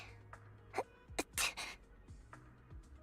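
A game character in Zenless Zone Zero sneezes once at mid-volume, with a sharp burst near the middle and quieter breathy sounds and soft game ambience around it.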